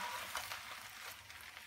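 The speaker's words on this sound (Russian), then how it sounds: "Рыба так очень хорошо прожаривается, она как будто жарено запеченная." Fish fries in a clean pan, giving a soft, steady sizzling hiss that stays faint and even throughout, with no voices.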